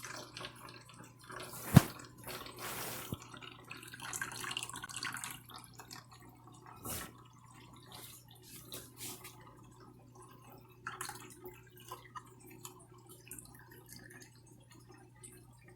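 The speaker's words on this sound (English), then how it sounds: "I have a can of mandarin oranges. Okay, and we'll drain that juice." Juice draining from a can of mandarin oranges, a faint trickle and sparse drips with a couple of sharp metallic taps, set against a quiet kitchen hum.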